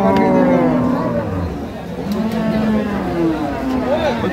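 A cow moos at a busy village cattle market in Dinajpur, Bangladesh, where dairy cows and calves are sold, its long low calls repeating close by over a steady murmur of crowd noise.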